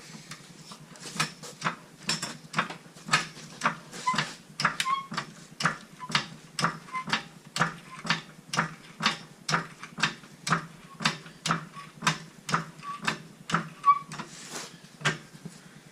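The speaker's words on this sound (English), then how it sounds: "we're gonna go ahead and get this thing jacked up" A car being raised with a floor jack, a steady run of rhythmic mechanical clicks and ratcheting pumps repeating about once per second, close and moderately loud, no talk.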